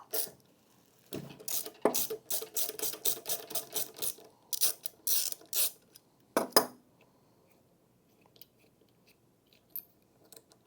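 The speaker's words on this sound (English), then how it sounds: "With your 3/16 Allen, remove the bolt." A 3/16 Allen key works a bolt loose on the pulley of an IKON buffer brush, giving a run of quick metallic ratcheting clicks, then a pause, a short burst and a few faint taps.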